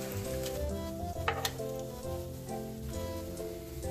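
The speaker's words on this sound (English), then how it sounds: "Still sizzling." Steady, crackling sizzle of bacon frying in a hot pan, continuous and close, with a few sharper pops.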